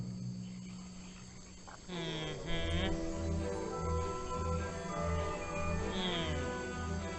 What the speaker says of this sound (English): Insects make noises at night.